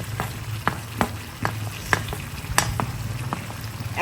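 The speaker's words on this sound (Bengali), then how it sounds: "এখন আমি এই যে ভেজে রাখা আলুগুলা দিয়ে দেবো।" Fried potatoes are stirred into a spicy sizzling chicken curry in a pan, with a steady frying hiss broken by regular scraping stirs and knocks of a spoon every half second or so.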